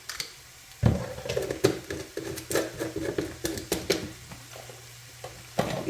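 Minced garlic sizzling in butter in a pan, a low steady fry punctuated by sharp clicks and scrapes of stirring, close and moderately loud with no talk.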